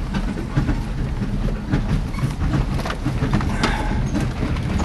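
A trailer towed behind a 4-wheel-drive vehicle on a bumpy track to Gold Lake, rattling and clattering constantly over a loud rumbling drive noise, with scattered knocks and bangs throughout.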